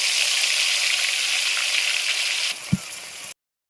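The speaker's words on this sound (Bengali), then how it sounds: "এর মধ্যে এবার চিকেনগুলো সব এক এক করে ভেজে নেব।" Pieces of chicken fry in hot ghee with a loud, steady sizzle and a single dull knock near the end before it cuts off.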